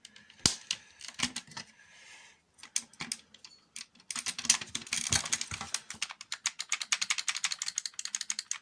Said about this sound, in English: You hear that? Nice clicky rail trigger.